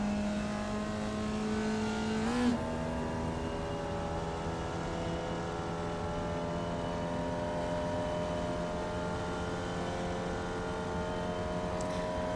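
A Formula Vee race car engine in iRacing at Okayama International drones steadily throughout, with a brief pitch shift from a downshift into third before it pulls on under full throttle.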